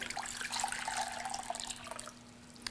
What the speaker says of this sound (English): we're going to pour it in a bowl